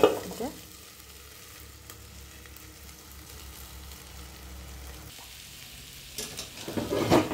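Kawoi fish and taro frying in a covered pan give off a steady, soft sizzle that runs for several seconds. A louder clatter and crackle rise near the end as the pan is handled, and no one speaks.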